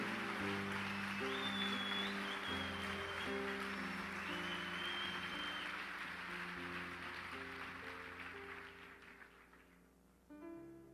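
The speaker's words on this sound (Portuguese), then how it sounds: "Aplauda o Senhor Jesus, pois Ele é santo." Church congregation applauding during a Sabbath rest sermon, steady loud clapping under sustained keyboard chords, slowly fading toward the end.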